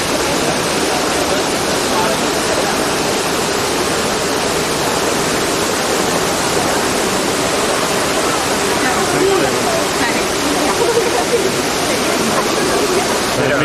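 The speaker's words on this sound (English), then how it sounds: "obviously we're at the Trevi Fountain." Water cascading at the Trevi Fountain, a loud continuous rushing splash filling the whole scene, with faint crowd voices mixed underneath.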